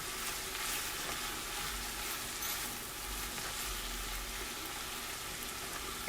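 Zucchini fries in a pan with a soft, continuous sizzle and occasional stirring scrapes, fairly quiet and close, with no talking.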